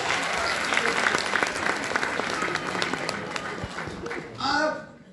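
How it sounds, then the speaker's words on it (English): Loud, sustained applause from a diverse crowd at an evening stand-up comedy show, steady clapping throughout with a brief swell near the end. "Give yourself a round of applause for being here tonight"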